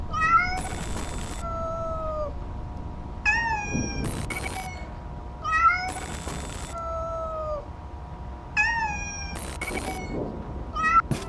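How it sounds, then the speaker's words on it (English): Repeated kitten meows from the Amanda the Adventurer video game, several clear rising calls in pairs over a low background drone and thuds, no talking. "It looks like this kitten is in big trouble."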